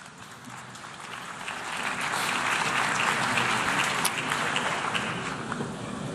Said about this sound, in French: Je vous remercie pour vos applaudissements